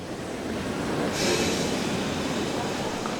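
A train stands at a station as an audio-story sound effect, a steady rumbling rail hiss with a brief brighter hiss like air brakes or doors, heard alone without talk.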